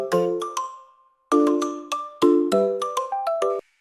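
Bright bell chimes ring out in a playful magic-spell jingle, clusters of clear pinging tones struck in quick descending runs, separated by brief pauses, close and resonant with short decays.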